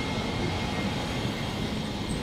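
A tram running through Nagasaki, Japan, gives a steady, fairly loud broadband rumble and hum, continuous for a couple of seconds with no voices.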